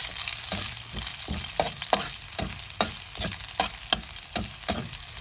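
Chopped onion sautés in a hot pan, a continuous close sizzle broken by regular scraping stirs roughly every half second, with no voices.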